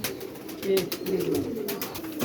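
Pigeons coo nearby in soft, repeated throaty calls, with light fluttering and shuffling noises around them.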